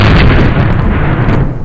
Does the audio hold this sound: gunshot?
yes